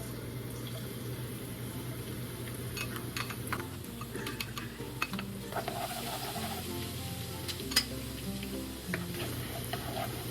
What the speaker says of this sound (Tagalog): Ngayon lagay natin yung ating bawang.